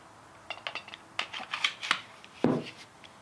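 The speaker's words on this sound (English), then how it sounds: "Slide everything back together." Parts of a Canik TP9SFx pistol slide are fitted back together: a sparse series of small metallic clicks and scrapes, with one sharper clack near the end, close and fairly quiet.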